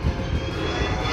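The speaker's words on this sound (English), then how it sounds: "This landing plane hit wind shear" An airplane on landing approach hit by wind shear before aborting its landing, a loud steady engine roar with broadband rushing noise filling the short moment.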